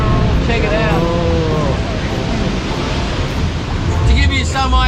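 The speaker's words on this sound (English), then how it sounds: "You watch this water smash up against." Sea waves crashing against a rock wall on the Tasmanian coast, a heavy continuous roar of surf with wind, a fresh surge building near the end, while someone talks over it.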